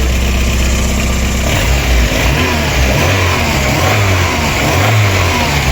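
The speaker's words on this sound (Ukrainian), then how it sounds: "отак шепче моторчик. Мотор ще холодний, працює на газу." A cold VW Passat B2 (Santana) 1.6 engine, 75 hp, running on gas after valve clearance adjustment, idling loudly and close, with a steady hum and a slight rise in revs partway through.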